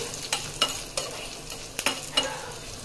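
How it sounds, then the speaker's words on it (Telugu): Red chillies and asafoetida fry in hot oil for chinthakaya pachadi, a steady soft sizzle broken by regular scraping stirs, close and alone with no speech. "కొంచెం ఇలా ఫ్రై అవుతే చాలు, ఎక్కువ మాడగొట్టాల్సిన అవసరం లేదు"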